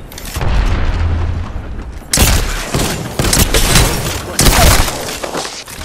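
Grenade blasts in the Apex Legends battle royale game: several loud, booming explosions in quick succession, close and heavy, with crackling debris between them.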